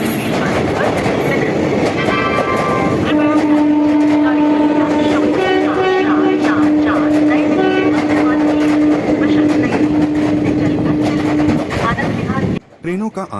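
An Indian Railways train arrives and rolls past on the track, its loud wheel clatter and steady tonal hum running throughout, with a train announcement and voices in the background.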